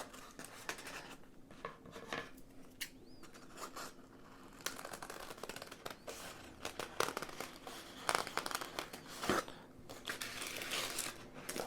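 Scissors cut through cover material for wrapping a bamboo baren used in Japanese mokuhanga woodblock printing, making close, irregular crinkling and snipping sounds with rustles over several seconds.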